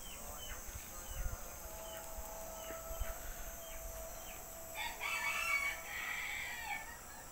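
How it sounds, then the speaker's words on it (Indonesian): Wild junglefowl crowing from dry fields beside rice paddies in Temanggung around dusk, a few distant, faint calls over a steady hiss of insects and birds. "Ayam hutan itu di tegalan sana kawan-kawan kalau ayam hutan."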